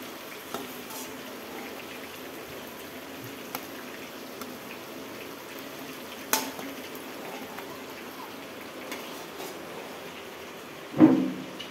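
Fish heads fry in a pan with a faint, steady sizzle, broken by a few soft clinks and one louder knock near the end.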